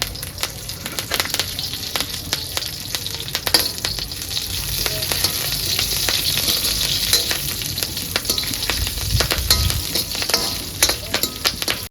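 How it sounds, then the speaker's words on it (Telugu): Steady crackling sizzle of cumin and curry leaves frying in hot oil, with occasional sharper pops and stirring sounds, close and continuous throughout. "తాలింపు బాగా ఫ్రై అయింది"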